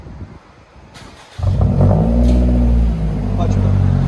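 A 2016 Scion tC with a muffler-delete exhaust starts up loudly after a moment of quiet and settles into a deep, steady rumbling idle with a slight rev. It stays close and dominant, with people audible around it.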